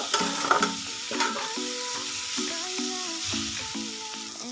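Lemons frying in a pan over medium gas for a homemade lemon pickle, a close steady sizzle with rhythmic clinks and scrapes of a spoon stirring, heard alone without speech.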